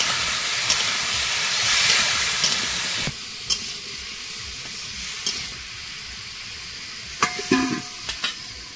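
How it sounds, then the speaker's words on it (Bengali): Taro frying with turmeric and salt in oil left over from frying fish, with a loud sizzle for about three seconds settling to a softer hiss, then scattered stirring clanks close by, no talk. "এবারে এই তেলের মধ্যে কচুটা দিয়ে দেবো, হলুদ গুঁড়ো আর লবণ দেবো"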